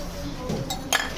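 A small stone drops into a drinking glass during a classroom dissolving activity, giving a few sharp clinks against the glass near the end, with children and a teacher talking around it.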